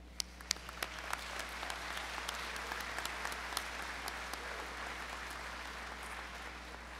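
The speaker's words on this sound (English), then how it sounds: "I'd like us all to give the nominees and candidates for this award and our outstanding graduates a round of applause" Audience applause at a 2023 West Virginia University Institute of Technology commencement ceremony, a few sharp claps at first swelling into steady, distant-sounding clapping from a large crowd over a low hum.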